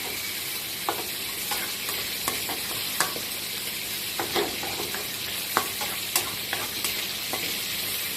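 Eggs stir-fried with preserved radish in a hot pan, a continuous sizzle broken by regular spatula taps and scrapes against the pan.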